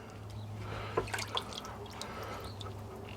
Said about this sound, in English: Got a regular pan, let all the drippings come off there.